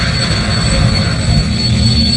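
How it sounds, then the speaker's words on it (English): A helicopter flying over a volcanic disaster zone during a rescue, a loud, continuous engine roar with a steady whine, close and unbroken throughout. "Rescue attempts could be made by helicopters only."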